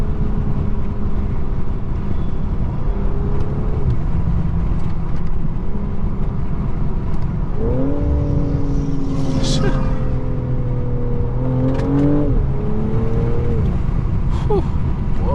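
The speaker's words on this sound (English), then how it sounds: "I don't know if y'all can hear that damn turbo whistle" A 2025 BMW M340i accelerates hard, its engine rising in pitch through several rising sweeps with a turbo whistle, loud and close from inside the car, with a voice speaking over it.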